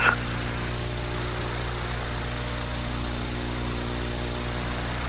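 Space Shuttle Atlantis's three main engines roar during ascent on the STS-61B launch, a steady, dense rumbling wash with a constant hum, heard alone and unbroken throughout.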